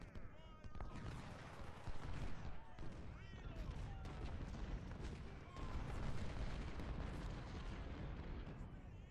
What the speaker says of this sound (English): the fortification in the center collapses, getting hit with a lot of